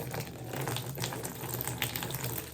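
Water runs steadily as LECA clay pebbles are rinsed and poured through a strainer, making a continuous close splashing rush with faint rattling, and no one speaks.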